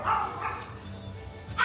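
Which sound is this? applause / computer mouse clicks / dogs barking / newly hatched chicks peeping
dogs barking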